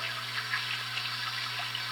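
Water running steadily from a tap in a 1940s radio drama sound effect, a continuous hissing splash with a low mains hum beneath and no voices.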